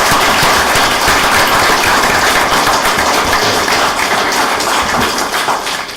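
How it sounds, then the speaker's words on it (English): Town council ceremony audience applauding members of the Wethersfield Police Department, a dense, steady burst of clapping from a full room that holds loud throughout and tapers slightly at the end. "please join me one more time in applause for the members of the Wethersfield Police Department"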